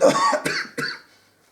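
A few harsh throaty coughs in quick succession, close and fairly loud, then silence.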